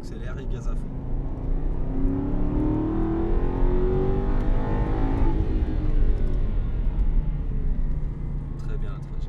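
An Aston Martin on a track pulling hard at full throttle, the engine roaring and climbing in pitch for several seconds, loud and close, with a coach speaking over the noise.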